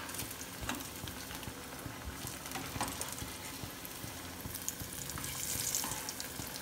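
Potato, corn and cheese tikki shallow-frying in a pan until golden: continuous crackling oil sizzle with scattered pops, close and moderately quiet, no voices.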